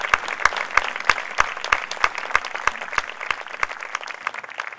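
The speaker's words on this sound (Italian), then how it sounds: "Un applauso immenso, bravissimi." An outdoor poetry evening audience at the Giardini Ducali in Modena gives a sustained round of applause, with some regular, emphatic claps cutting through the steady patter, fairly close and without talk.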